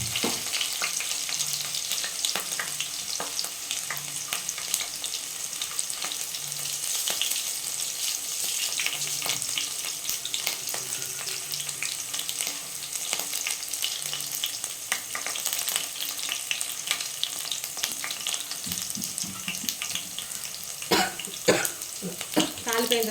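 Onion frying in a pan for Nellore fish curry, a steady broadband sizzle lasting throughout, with faint stirring scrapes and a few brief knocks near the end.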